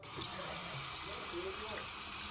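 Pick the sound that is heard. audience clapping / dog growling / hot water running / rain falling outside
hot water running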